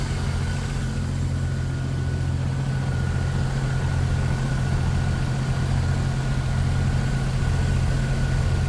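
An old Jeep engine idles steadily to warm up, a close, loud, low rumble that holds constant for the whole stretch without any talking.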